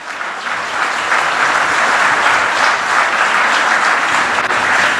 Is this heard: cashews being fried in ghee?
no